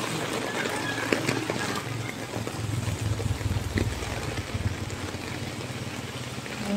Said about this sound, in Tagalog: naman ang lakas ng ulan